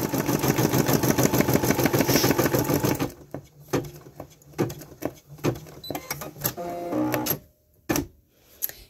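Embroidery machine stitching a felt patch, first a dense rapid buzzing run of stitches, then sparser stop-start clicks and short mechanical whirs, close and alone.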